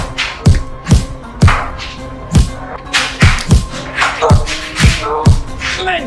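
Heavy blows land on someone during a jail beating in a Hindi short film fight scene: about ten loud, punchy thuds arrive in a steady rhythm, roughly two per second, close and forceful, with faint vocal grunts and noise between the hits.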